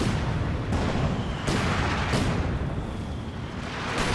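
Mortar fire pounds across a Company of Heroes 2 battlefield. Heavy booms land about every second over a constant roar of battle noise.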